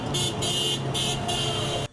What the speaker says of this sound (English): greeted by hundreds of honking horns and the sounds of ringing bells